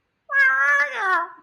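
A human voice imitates a cat's meow, one drawn-out, wavering, plaintive call, close and clear with no other sounds.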